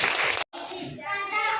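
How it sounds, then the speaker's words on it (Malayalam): Children at a kids' magic show give a short burst of clapping, briefly cut off, then resuming more faintly while an adult talks over it. "ഓക്കെ, നല്ലൊരു കൈയടി തന്നെ."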